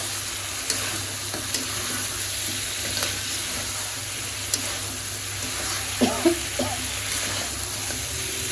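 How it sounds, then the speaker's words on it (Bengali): Goat meat frying in a pan gives a steady, moderate sizzle with a constant low hum underneath, broken by a few brief stirring clinks and scrapes near the end. "তো এবার হচ্ছে খাসির মাংস রান্না করতেছি"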